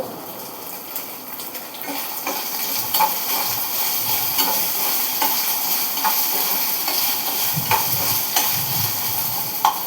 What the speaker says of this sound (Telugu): ఆలు వేసుకుని మంచిగా కలుపుకోవాలి.